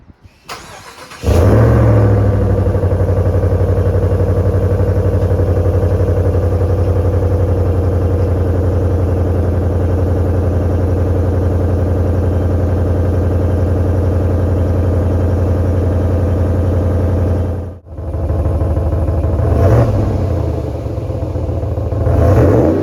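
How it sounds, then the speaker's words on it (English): A 2023 Ram 1500 pickup with a Flowmaster FlowFX muffler fires up from a cold start, catching after a brief crank into a loud, steady idle that stays close and constant with a short dip partway through. "we're gonna do a cold start"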